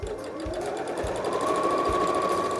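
A sewing machine stitches fabric strips wrapped around piping, running with a steady, close mechanical whir and a regular thumping rhythm throughout, with no talking.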